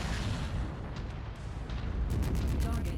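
A destroyed target blows up in Merc Life, a loud, rumbling, sustained blast that fills the whole stretch, with a few sharp crackles near the end.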